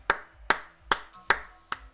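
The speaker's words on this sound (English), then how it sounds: "Just clap it up." Five slow, evenly spaced hand claps ring out sharp and close, each followed by a brief decay, with no talking between them.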